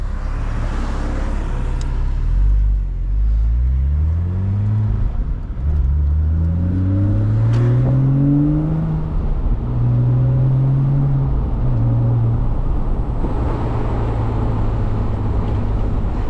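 A 2007 Porsche Boxster S with a manual gearbox revs up through the gears, each pull rising in pitch and then dropping at the shift, repeated several times as the engine drones loudly from inside the car.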